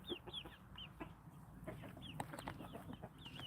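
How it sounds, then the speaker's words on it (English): Young hens on a farm peep and cheep in soft, repeated high calls, several birds overlapping at close range with faint rustling, fairly quiet overall. "They're peeping, not clucking."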